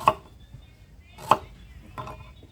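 A blade cuts through the stems of a sanhae chan prakai dao (Aglaonema) plant for propagation: three crisp, separate cuts about a second apart, close and clear, with no talking.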